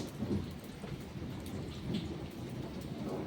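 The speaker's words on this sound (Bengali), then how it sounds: "দেখো বাইরে বৃষ্টি হচ্ছে" Rain falls outside as a soft, even hiss of drops on surfaces, heard from somewhat far off and steady throughout, with no voices.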